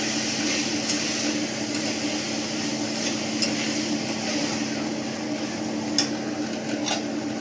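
Banana flower tossed into spices frying in a pan for mochar ghonto, a steady sizzle with soft scraping stir strokes and an occasional light clink of the utensil, continuous and close.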